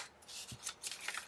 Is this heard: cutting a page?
yes